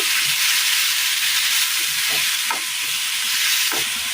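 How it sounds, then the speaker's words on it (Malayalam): Ground batter poured into a pan of frying onions for a quick breakfast dish, giving a loud, steady sizzle with faint scraping stirs throughout. "ഉള്ളിയൊക്കെ ഒന്ന് മൂത്ത് വരുന്ന സമയം നമുക്ക് ഇതിനകത്തേക്ക് നമ്മൾ ഈ അരച്ച് കൊണ്ടുവന്ന കൂട്ട് ഇതിനകത്തേക്ക് ഒഴിച്ച് കൊടുക്കാം"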